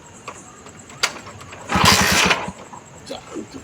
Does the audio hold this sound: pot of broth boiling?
no